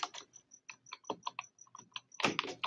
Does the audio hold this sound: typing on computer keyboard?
yes